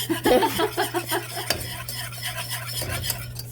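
Butter sizzling in a hot pan while making Texas sheet cake with cocoa, a steady crackling fry under clinks and scrapes of stirring utensils against the pan, with a constant low hum behind it.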